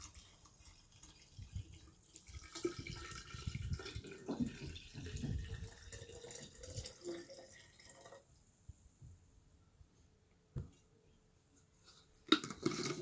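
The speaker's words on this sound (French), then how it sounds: "Maintenant, je vais rajouter 1 litre d'eau." A litre of water is poured into a jar holding figs and lemon slices for fruit kefir, with a faint trickling, dripping flow and a few small clinks, quiet and close.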